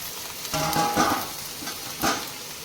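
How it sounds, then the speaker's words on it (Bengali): Chopped tomatoes sizzle in a pan while a utensil stirs and scrapes in a few short strokes. "টমেটোটা আবার একটু নরম হওয়া পর্যন্ত আমি নাড়তে থাকবো"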